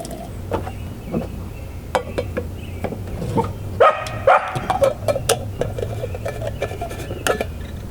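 A dog barks in short bursts scattered across the clip, mixed with clinking dishes and small mechanical clatter nearby.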